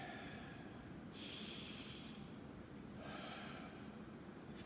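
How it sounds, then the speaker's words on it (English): Slow, deep breaths taken close to the microphone, two long airy inhales or exhales with a calm gap between them over a steady background hiss. "Then breathe."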